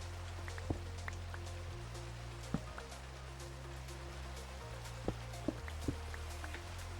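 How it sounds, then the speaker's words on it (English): Steady rain falling in the video game Minecraft, a soft continuous hiss with a low rumble beneath and a few faint clicks scattered through. "Can we sleep to get rid of the rain"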